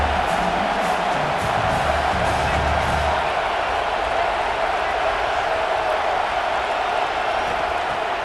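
A large video game stadium crowd roars steadily during a college football play, a dense, unbroken wall of cheering that stays loud for the whole stretch without any lull.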